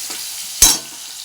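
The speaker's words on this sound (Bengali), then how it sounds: "পটলটা ভালো করে ধুয়ে কড়াইতে আমি দিয়েছি, পটলটা একটু লাল লাল করে ভাজবো বলে" Pointed gourd (potol) frying in oil in a wok, a soft steady sizzle punctuated by one sharp burst of crackling as the pieces are stirred or moved, then settling back to a quiet hiss.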